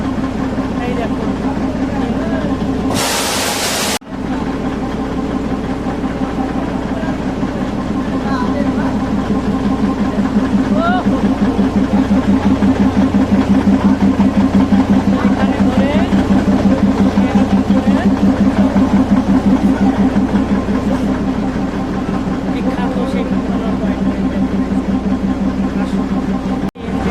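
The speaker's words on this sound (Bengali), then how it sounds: "এনজিপি থেকে 10টায় ছেড়ে যাবে টয় ট্রেন দার্জিলিংয়ের উদ্দেশ্যে।" The Darjeeling toy train's engine idles at NJP station before departure, a steady low rumbling hum that runs throughout with a brief sharp noise near the start.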